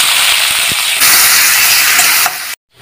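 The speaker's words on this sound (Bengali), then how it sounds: "এরপর একটা গোটা পেঁয়াজ কুচি দিয়ে দেব।" Chopped onion hits hot mustard oil spiced with black cumin seeds, setting off a loud, close, steady sizzling hiss that surges and then cuts off abruptly.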